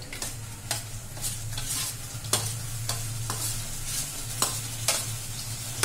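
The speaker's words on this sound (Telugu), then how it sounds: "ఇది చూడండి ఇట్లా కలుపుతున్నాను పెరుగు" Curd is stirred in a bowl for dahi vada, the spoon making rhythmic wet swishes and light taps at a steady pace, close by, over a low electrical hum.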